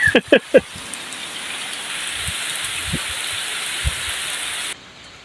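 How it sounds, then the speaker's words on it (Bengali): Heavy rain pouring down in a dense, steady hiss that stops abruptly near the end, with a few brief vocal sounds at the start. "দেখেন ভাই পুরা দামে বৃষ্টি শুরু হয়ে গেছে"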